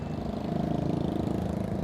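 A broken-down motorcycle engine sputters and chugs unevenly at close range, a steady low mechanical drone with rough pulsing, heard alone without talk.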